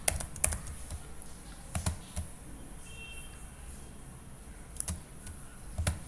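Sparse, soft keystrokes tap on a computer keyboard nearby, with a few isolated clicks and short clusters spread across a quiet background.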